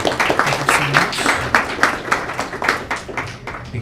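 An audience at a school board meeting applauds a student guest with close, uneven clapping that rises and falls in bursts over a few seconds.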